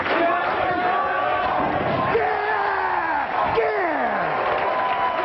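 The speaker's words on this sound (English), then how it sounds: "the crowd plays no favorites as they're chanting Steve." A crowd at a 1997 professional bowling championship chants a player's name, a sustained loud roar with rising and falling vocal swells, while a commentator talks over it.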